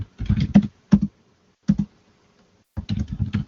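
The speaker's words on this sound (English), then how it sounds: "I hear somebody typing like crazy right now." Bursts of rapid computer-keyboard typing come through a conference call, with clusters of quick key clicks separated by short pauses. They sound close and fairly loud against near silence.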